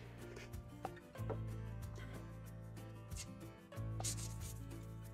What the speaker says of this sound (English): Do not have to do this with a sanding sponge